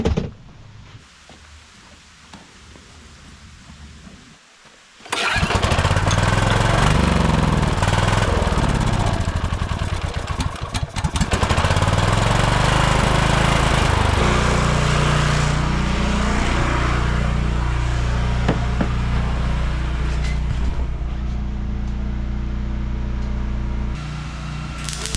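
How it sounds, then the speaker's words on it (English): Gas-powered generator pulled into life after a quiet start, then roaring loudly and steadily with a fluctuating, labouring drone for about twenty seconds, close by. "Generator died instantly."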